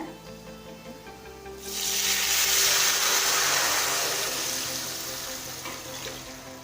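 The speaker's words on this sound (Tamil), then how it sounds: "அடுத்தது வேக வச்ச மட்டனை சேர்த்துக்கலாங்க" Boiled mutton tipped into hot oil tempered with fennel seeds in a pan, breaking into a loud, steady frying sizzle that holds for several seconds and slowly eases, with no talking.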